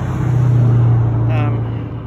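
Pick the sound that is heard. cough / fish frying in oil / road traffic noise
road traffic noise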